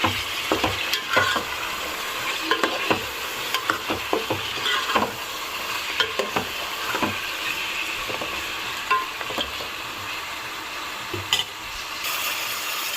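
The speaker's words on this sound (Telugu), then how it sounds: "ఇప్పుడు ఇందులోకి మనం ఒక 1/2 కేజీ చికెన్ వేసుకుందాము. మొత్తం కలుపుకుందాం." Half a kilo of chicken stirred into a pot of Bhimavaram-style Raju gari chicken pulav, a steady sizzle and fry broken by frequent close scrapes and clacks of a spoon against the pot, with nobody speaking.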